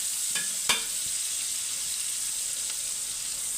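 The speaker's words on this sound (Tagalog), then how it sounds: "Mekos-mekos mo lang po yung mga condiments dyan." Ginger and condiments sizzle in a hot pan for chicken tinola, a steady close frying hiss with a couple of brief utensil scrapes as they are stirred.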